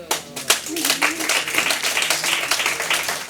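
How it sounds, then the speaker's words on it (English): Audience clapping at a business talk to partners in South Africa, a dense patter of hands that swells after a sharp opening burst and carries steadily through the short moment. "Isn't it worth a clap for the two of them?"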